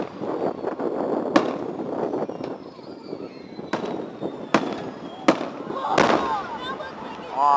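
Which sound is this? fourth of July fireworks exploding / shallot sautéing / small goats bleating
fourth of July fireworks exploding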